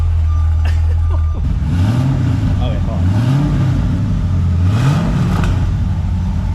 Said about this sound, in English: That is the idle with the valves closed.